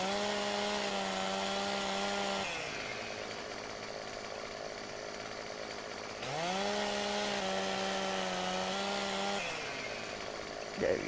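Chainsaw cutting wood in the farming video game Farming Simulator 15: a steady engine whine that drops as the saw goes idle, then revs back up for a second cut, loud and continuous with a brief click at the end.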